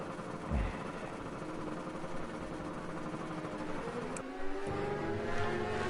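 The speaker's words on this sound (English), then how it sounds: "You get the sound of the two-stroke." A two-stroke racing motorcycle engine in a video game drones steadily with a buzzing harmonic whine, shifting pitch near the end as it revs, heard alone without talk.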